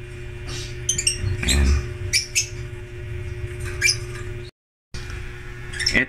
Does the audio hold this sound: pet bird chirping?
yes